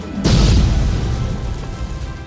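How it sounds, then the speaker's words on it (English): In an animated movie, a cytotoxin gun fires at viruses with one loud, close boom. A heavy rumbling tail follows and fades slowly. "Viruses, meet my cytotoxin gun."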